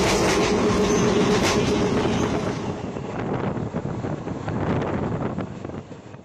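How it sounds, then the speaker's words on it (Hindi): A Shramik Special train on Indian Railways rolls along with a loud, steady rumble and clatter of wheels, rhythmic clickety-clack and wind buffeting close to the microphone throughout, easing slightly toward the end. "ये हाल है हमारे भारतीय रेलवे का, श्रमिक स्पेशल ट्रेन का"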